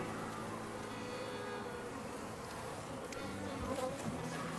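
Honey bees swarm and buzz during a spring hive inspection, a dense continuous hum close by with individual bees passing near.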